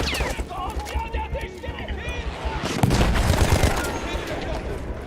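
Gunfire in the video game Battlefield 1, in a desert setting: bursts of shots crackle through the scene, growing denser and louder toward the end, mixed with game effects while a player talks throughout.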